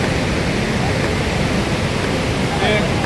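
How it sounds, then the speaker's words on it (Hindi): The Gandaki river in flood roars past in a steady, loud wall of rushing water, close and unbroken, with no pauses or other sounds cutting through. "ये गंडकी नदी ऊपर से बहकर नीचे तक जाती है"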